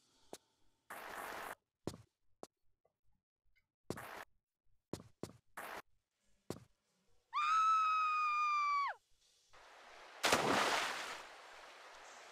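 Lara Croft screams while falling in Tomb Raider 3 in London at Lud's Gate, one sustained cry after a series of sharp clicks and thuds, followed by a loud splash into water.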